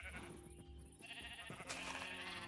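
Minecraft sheep bleat in a few short, nasal calls over a busy game soundscape, close and clear with no talk.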